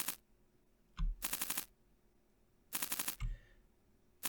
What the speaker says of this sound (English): So it's kind of like a machine gun fire ability, which is all pretty cool.